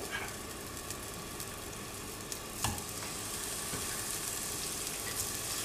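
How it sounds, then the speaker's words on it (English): Tofu frying in an oiled pan for a Keralan moilee, a steady dense sizzle and crackle throughout with a couple of sharper pops and a light clack partway through, with no talk. "we're going to start putting the tofu in"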